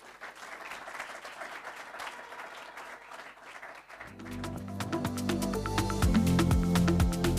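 An audience breaks into applause to welcome a speaker at a Samsung Solve for Tomorrow launch event, starting as scattered clapping and swelling into steady, loud, full-room applause.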